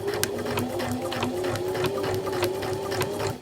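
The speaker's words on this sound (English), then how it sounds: "this time I'm stitching sort of between the 10 and the 15 line" A sewing machine runs steadily, stitching princess seams in fabric within the seam allowance, a continuous close whirring hum with a rapid needle rhythm throughout and no voice over it.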